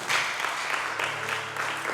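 Church congregation applauding during a Sunday worship service, a short, dense wash of clapping from many hands that stays steady throughout.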